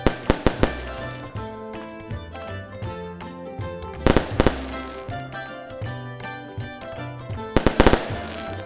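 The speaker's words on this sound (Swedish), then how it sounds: "Nu tycker jag vi njuter av lite fyrverkerier." New Year fireworks burst in three loud clusters of sharp cracks and pops, spaced a few seconds apart over steady background music in a children's program.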